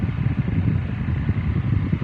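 A steady whirring hum of a small rechargeable fan running continuously on its third speed setting after repair, close and even, with no other sounds.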